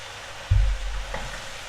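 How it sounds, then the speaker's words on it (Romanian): Mushrooms frying in a pan and being stirred, a brief low thump of the spoon followed by a soft, steady sizzle, close and alone. "Amestecăm bine și le lăsăm până ce scad în volum."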